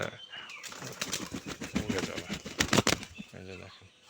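Pigeons in a home loft flutter their wings in quick, clattering bursts and give a low coo near the end, heard close and mixed with someone talking over them.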